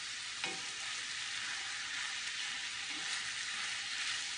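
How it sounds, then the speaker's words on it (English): Squash simmers and sizzles in a pan for an Italian sausage Napoli casserole. A steady, close frying hiss fills the whole stretch, with faint stirring knocks and no talking. "So just keep simmering it until that squash gets tender."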